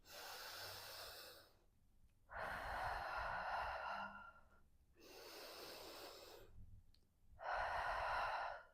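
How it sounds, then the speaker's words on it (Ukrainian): Slow deep breaths in a guided calming breathing exercise, close and audible, three long breaths alternating with short pauses in an even rhythm, with no talk. "І пробуємо разом вдих і видих."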